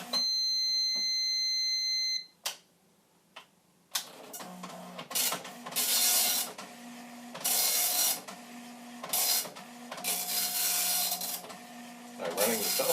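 A Commodore NX-1000C multi-font dot-matrix printer runs its self-test: an electronic beep tone opens, then after a pause bursts of rasping, buzzing print-head passes come in repeated runs, close and fairly loud.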